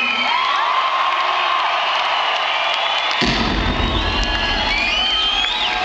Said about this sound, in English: Give a round of applause to my homeboys